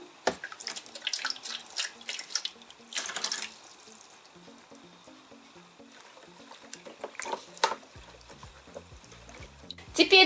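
Diluted potassium permanganate solution poured into a basin of water for soaking white laundry, giving splashy pouring and trickling bursts with drips, mid-distance, punctuated by handling noises and quieter gaps.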